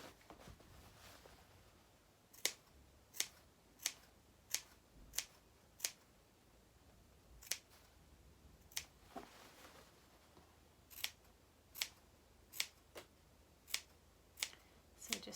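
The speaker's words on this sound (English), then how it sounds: "Just snip it all the way around." Sharp scissor snips cutting fabric around the curved seam of a sewn tote bag, about sixteen crisp clicks in irregular bursts over a quiet background.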